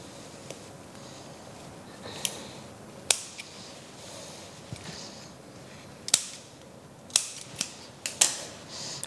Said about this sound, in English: And then we cut a square.